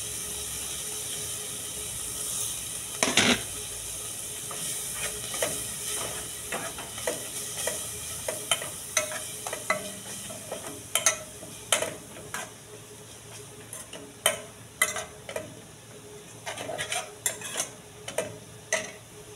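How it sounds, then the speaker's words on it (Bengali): Garlic and coriander leaves frying in a pan give a steady sizzle, broken by scattered sharp clicks and scrapes of stirring that grow more frequent toward the end, with no one talking. "এই যে রসুন আর ধনিয়া পাতা ভাজা হয়ে গেছে"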